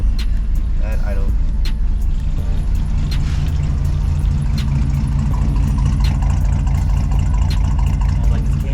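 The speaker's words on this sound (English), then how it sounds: "Sounds like it's cam. Sounds like a V8 already." A car engine idles loud and close with a lumpy, cammed V8-like rumble and a rough, uneven idle, while people talk over it.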